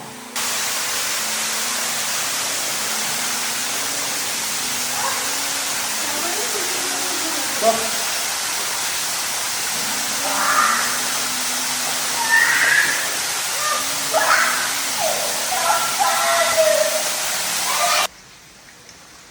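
Steady rushing roar of the waterfall at Griya Beji temple in Bali, a constant wash of falling water throughout, with a few brief voices and splashes near the end before it cuts off abruptly.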